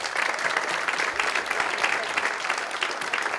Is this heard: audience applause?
yes